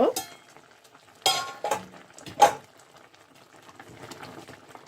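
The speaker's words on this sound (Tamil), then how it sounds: "இப்போ இதை நல்லா கொதிக்க விடுவோம்." A pot of fried aubergine curry bubbles quietly, with a few sharper stirring scrapes and clinks in separate bursts, close up and without speech.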